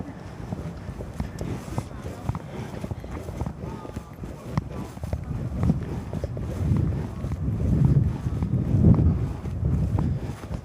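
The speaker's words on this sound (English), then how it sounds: "Oh, she is windy." Gusty wind on Mt Wellington in Auckland buffets the microphone with low rumbling bursts that swell louder toward the end, mixed with footsteps and brief voices.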